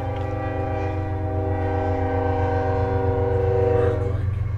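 A train passes close by with a steady, loud rumble, its horn sounding as a sustained multi-tone blast through the whole stretch, during a campus baseball game broadcast.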